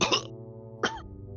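A voice imitates two short, harsh coughs separated by a pause, close and fairly loud, with a steady low hum behind.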